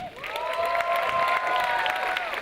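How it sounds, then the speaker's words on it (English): An audience at a tech talk applauds as a speaker is brought onto the stage, steady clapping from a crowd that stays loud throughout, with a faint tonal whine running through it. "Please give her a round of applause."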